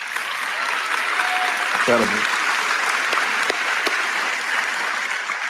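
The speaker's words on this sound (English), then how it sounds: "thanks for clapping" Audience applause fills a church or talk setting, steady dense clapping throughout with a voice briefly speaking over it.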